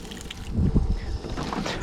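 A water jug dropped while cooking in a pickup truck camp, landing with a few dull thumps and knocks that stand out over outdoor wind noise.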